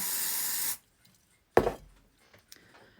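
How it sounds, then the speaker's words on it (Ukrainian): A long, steady hiss as an aerosol stain remover is sprayed from a distance onto a greasy spot on fabric, then it stops abruptly, followed by a short burst and faint handling sounds. "Беремо наше пятно і на відстані розпилюємо"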